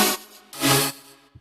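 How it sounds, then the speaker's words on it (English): Two bright, noisy synth chord stabs from a trap track's first drop, produced in Logic Pro X, each swelling and fading over a soft low note, with no voices. "Also have these chord stabs that in the first drop they go like this"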